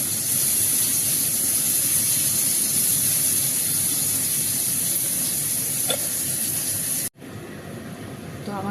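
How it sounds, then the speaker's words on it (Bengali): Onions frying in a pan, with a steady close sizzle and hiss that runs unbroken, then cuts out abruptly near the end before a fainter sizzle returns. "এটার মধ্যে আমি পেঁয়াজ দিয়ে দেবো, পেঁয়াজটা একটু ব্রাউন করে ভেজে নেবো।"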